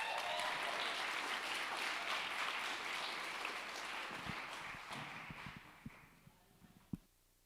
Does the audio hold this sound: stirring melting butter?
no